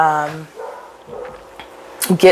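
Dogs bark in short bursts near the end, after a stretch of a person talking over them.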